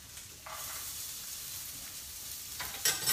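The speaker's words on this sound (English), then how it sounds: "you guys hear that sizzle? I love the sound of the sizzle." Carrots sizzle in a frying pan, a steady hiss that swells louder about half a second in and keeps going, with a brief brighter crackle near the end.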